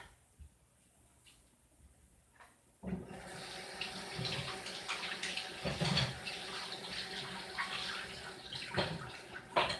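Tap water running into a sink to rinse paintbrushes, starting abruptly after a quiet stretch and then splashing steadily and fairly close, with small clinks and handling noises mixed in.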